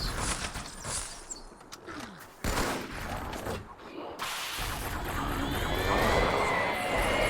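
Rocket fire from Flood enemies in Halo 2 on an original Xbox bursts in noisy blasts and rumbling explosions, with a broad wash of battle noise building toward the end.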